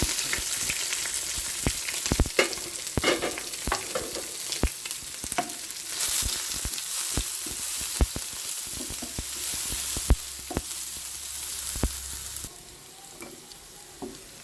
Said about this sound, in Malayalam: ഉള്ളി മുളകുമാണ് മൂത്തുകൊണ്ടിരിക്കുന്നത്